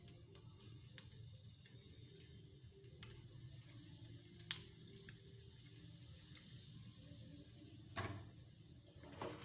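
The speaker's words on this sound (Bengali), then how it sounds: "তেলটা গরম হয়ে গেছে আর এতে আমি একটা গোটা শুকনো লঙ্কা কুচি কুচি করে দিয়ে দিচ্ছি" Chopped whole dried red chilli sizzling in a little hot oil in a pan, a steady close frying hiss throughout with a few sharp pops and spits, no talking.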